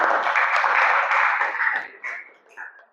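Classroom group applause for a student named Firda after she demonstrates inner and outer blocks, a dense burst of clapping that thins out and fades over a few seconds.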